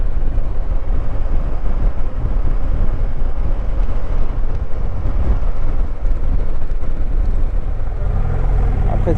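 Continuous engine drone and heavy wind buffeting from a motorcycle riding through the Bardenas desert roads, loud and close throughout.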